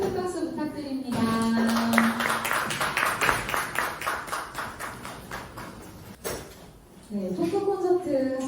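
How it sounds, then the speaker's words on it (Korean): An audience claps during a school admissions information session, the applause building into dense, sustained clapping from about one second to six seconds, with brief talk before and after it. "나오실 때 우리 큰 박수 부탁드립니다."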